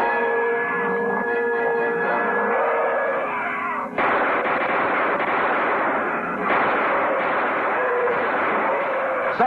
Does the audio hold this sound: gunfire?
yes